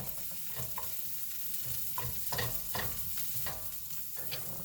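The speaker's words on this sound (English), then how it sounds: "I'm gonna give it a quick move around the pan, again, making sure that my onions aren't burning." Rice, ground beef and beans for a taco bowl are pushed around a hot pan with onions, giving repeated scraping stir strokes over a soft, close sizzle.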